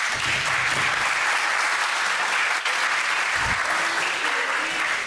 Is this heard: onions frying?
no